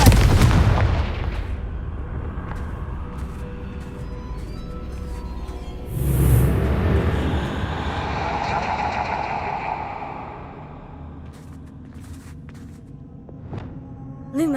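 A Confringo blasting spell going off in Hogwarts Legacy: a heavy booming blast at the start, a second explosive burst midway that rumbles and fades, then quieter ambience and a small final pop.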